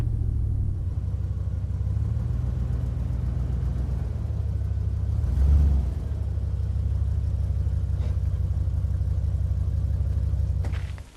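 A V8 engine of an off-road vehicle crawling in low range rumbles steadily and loudly from inside the cab, a deep constant drone with a brief swell midway and no talk.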